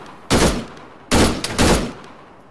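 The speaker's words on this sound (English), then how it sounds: "Oh, some panicky shooting there." Two close, loud bursts of gunfire from ArmA 3, the second one a doubled volley, separated by short quiet gaps.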